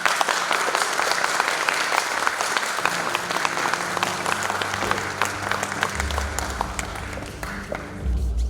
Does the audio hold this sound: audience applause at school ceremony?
yes